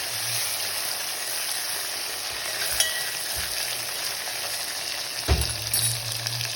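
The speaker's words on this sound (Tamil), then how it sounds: "இப்போ நான் இந்த டொமேட்டோவை போடுறேன்." Tomatoes sizzle and fry in a pan of oil for Tamil vendaya kuzhambu, a steady close hiss with a few stirring clatters near the end.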